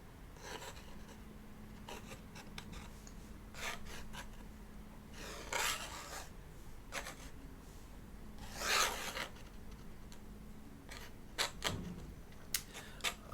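Flexible pen nib scratching across paper during a watercolour sketch, faint close-up strokes in short irregular bursts with brief pauses between lines.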